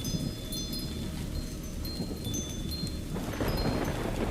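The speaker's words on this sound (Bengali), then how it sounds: "রাত হলো বৃষ্টি এখনো ঝরছে ঝড় এখনো গর্জন করছে" A thunderstorm rumbles with deep rolling thunder under steady rain, the hiss swelling louder near the end, used as an effect in a Bengali audio story.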